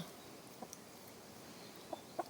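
A rooster gives a few soft, brief clucks, spaced out over a quiet background, faint and some distance away.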